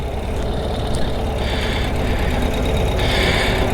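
Ural motorcycle with a BMW Boxer engine idling close by, a steady low rumbling throb with an even loudness throughout and no voices.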